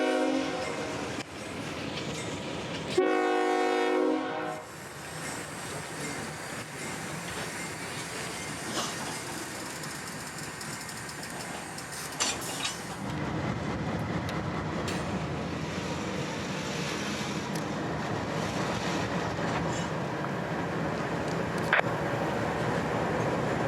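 A freight local led by 1990s diesel engines pulls out of a spur with three cars near Tampa: a loud, brief horn blast, then a steady rolling rumble of engines and wagons close by, with no talk.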